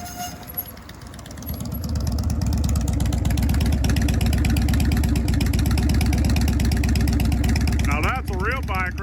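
A loud motorcycle engine close by, a steady throbbing drone that builds after a quieter start and holds, with a brief rising whine near the end, music playing underneath.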